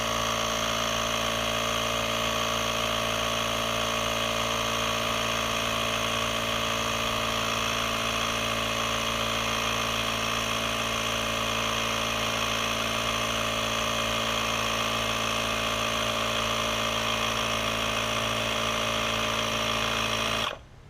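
A Powrun S8 portable tire inflator air compressor runs steadily and close by for about twenty seconds, a continuous buzzing motor drone with dense harmonic whine, cutting off abruptly at the end.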